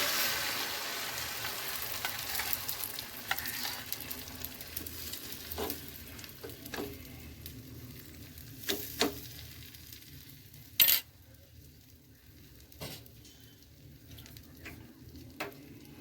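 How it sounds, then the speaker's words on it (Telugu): An omelette frying in a pan gives a soft, steady sizzle with occasional stirring scrapes and sharper clinks, at low level with no voices. "ఇంట్లో ఆమ్లెట్ వేసేసుకుందామండి."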